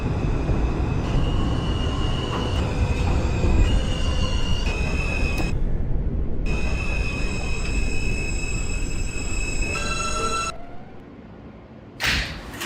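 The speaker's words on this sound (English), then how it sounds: "This is a Manhattan-bound R train." A Manhattan-bound R subway train in the OpenBVE simulator game running along the line, a loud steady rumble of wheels and motors with rising and falling whining tones, then a brief lull and a burst of noise near the end.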